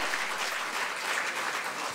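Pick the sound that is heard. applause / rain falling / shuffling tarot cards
applause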